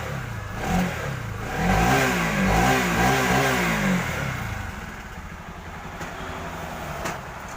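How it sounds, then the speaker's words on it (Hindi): A Bajaj Pulsar NS200 motorcycle engine, with its timing chain just changed, revs up and down several times close by, then drops back to a rattling idle. "आपको एक बार माइक लगा के इंजन साउंड सुनाते हैं दोस्तों"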